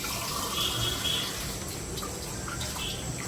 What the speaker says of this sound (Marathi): परत दुसरं पाणी टाकते